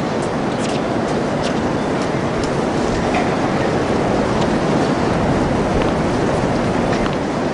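Steady, loud wind buffeting across an outdoor tennis stadium at the Pan Pacific Open, a constant rushing roar filling the whole stretch with no clear breaks.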